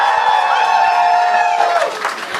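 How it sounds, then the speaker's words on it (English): An audience at a book launch for Amish Tripathi's War of Lanka gives him a big round of applause. The clapping and cheering are dense and steady, then fade toward the end of the stretch. "A huge round of applause for Amish Tripathi."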